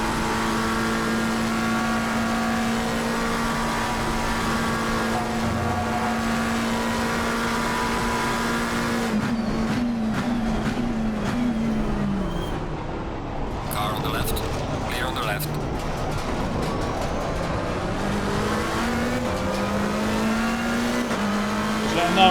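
Several GT race cars in Assetto Corsa Competizione lap the Spa circuit, engines droning steadily with shifting revs and gear changes, a busier burst of mechanical noise midway, heard under continuous commentary.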